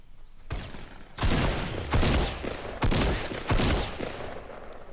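Fortnite shotgun fire rings out in about four loud, booming blasts spaced roughly a second apart, each with a short decaying tail, heard close with no talk over them.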